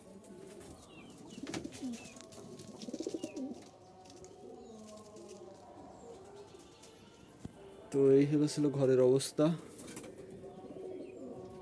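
Jalali pigeons coo in a loft, soft low calls through the first half, then a louder burst of close cooing near the end, with someone talking throughout.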